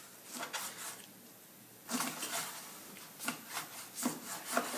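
A knife cuts through a stack of charred items for a Mexican halibut fish soup, making close, repeated rasping strokes in short rhythmic bursts with a brief pause partway through.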